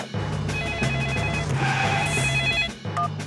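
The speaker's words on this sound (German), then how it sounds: "Ich rufe Herrn Bulle an" A cartoon telephone rings in repeated rapid electronic trills, moderately loud and alone, over a soft musical background, with a short pause near the end before the ringing starts again.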